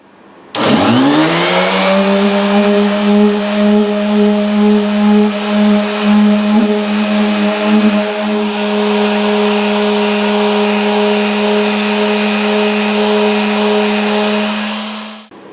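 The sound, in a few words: sanding a guitar's spruce top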